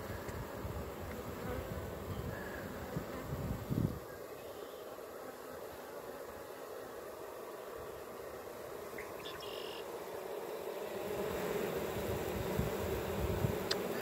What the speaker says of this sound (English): you can see those bees at the entrance are just hanging out there, fanning their wings with their rear ends up in the air